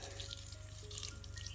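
Leftover water trickling from a garden hose pipe onto tea plants, a faint, steady thin stream with light splashing and a low background hum, no talk.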